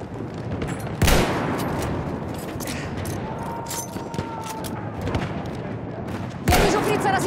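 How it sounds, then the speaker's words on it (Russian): Battlefield 1 battle with machine-gun and rifle fire rattling over a dense din, two sharp loud blasts standing out near the start and end, and a voice shouting briefly in the mix. "Пулемет! Это враг!"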